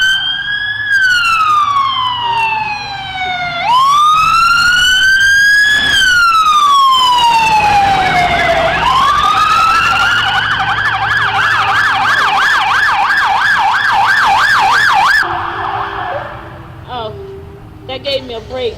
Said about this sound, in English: Two ambulances go by here at really 11:30.